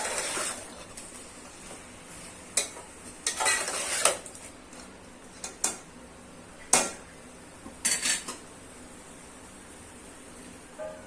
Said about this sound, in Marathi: वरती ताट ठेवणार आहे पातेल्याच्या वरती